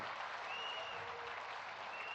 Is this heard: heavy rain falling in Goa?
no